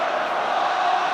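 Rugby crowd at an Ulster versus Scarlets match roaring in a brief, dense, continuous swell of massed voices, loud and distant across the stadium.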